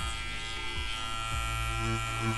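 A tattoo machine hums steadily while shading clouds, a close, continuous electric buzz with slight shifts in pitch and no speech.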